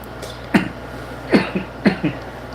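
Three short, sharp coughs spaced a second or so apart, close and fairly loud, the later ones followed by a quick second hack.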